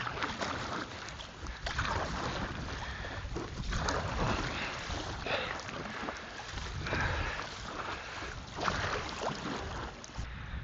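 Paddle boarding on choppy, windy Crummock Water in the Lake District, with continuous wind buffeting and water sloshing and splashing around the board, loud and close, with no talk.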